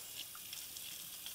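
Water splashing and trickling in a container while an oil paint brush is rinsed clean, a soft steady wash of sound with faint splashes, quiet and close, no voices.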